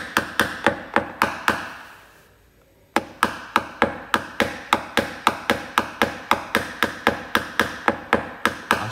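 Rapid, evenly spaced small hammer taps on a car body panel during paintless dent repair, a steady rhythm of sharp close knocks with a brief pause before they resume.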